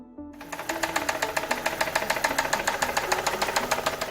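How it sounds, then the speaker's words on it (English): Engine knocking in a car from premature fuel detonation after the wrong fuel was used: a rapid, steady series of metallic knocks, about five per second, close and clear with no talking. "causing a series of loud metallic knocking sounds known as engine knocking"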